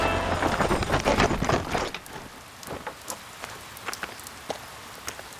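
Rain falling steadily outdoors as a storm approaches, a dense hiss that is loud at first and then thins to scattered drop patters, with no voices.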